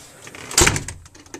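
A door swings shut indoors with a single solid thud, followed by a short fading rattle and a faint click, moderately loud and close, with no talk.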